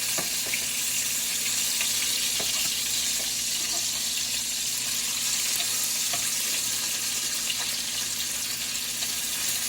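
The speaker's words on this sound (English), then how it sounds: "You see it's sizzling and it's starting to puff up" Steady, dense sizzling of bacon frying in a hot pan, loud and continuous throughout with faint crackles and no voices.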